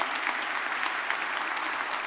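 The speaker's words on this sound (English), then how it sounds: "Give yourselves a round of applause." A large crowd at a youth celebration event in Atlanta applauds continuously, a dense, even wash of many hands clapping at close range with no voices on top.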